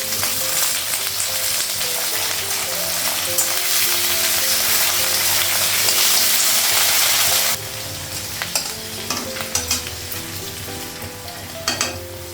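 Beans and green chilli frying in a pan, a loud continuous sizzle that drops to a lower hiss partway through, with scattered clinks and stirring taps near the end.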